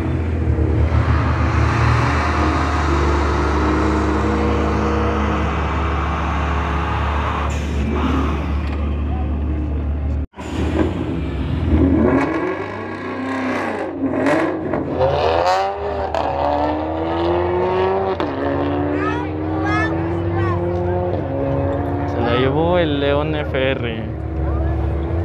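Drag racing cars including a red Mustang GT accelerating at Autódromo Moisés Solana, loud engine roar with rising revs and gear changes, then engines fading while people talk and shout nearby.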